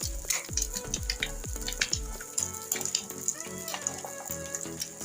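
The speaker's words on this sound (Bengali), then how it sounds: "সামান্য একটু লবণ দিয়ে আমি ডিমটা পোস্ট করে নিচ্ছি" An egg poaching in lightly salted water, with a run of sharp taps at first and then steady bubbling that carries on through the clip.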